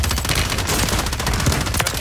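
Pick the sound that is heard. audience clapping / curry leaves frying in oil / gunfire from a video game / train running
gunfire from a video game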